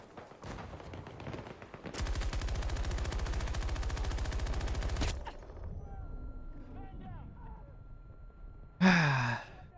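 Rapid bursts of automatic gunfire from the Battlefield video game rattle loudly for about three seconds, with scattered game sounds and a sharp blast near the end.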